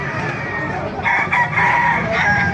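Chickens from a line of fine gamefowl in Baliuag, Bulacan, with a rooster crowing in drawn-out calls over steady farmyard background noise, loudest in the second half.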